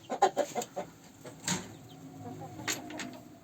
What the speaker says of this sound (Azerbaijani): Bir dənə də qara xoruz buradadır.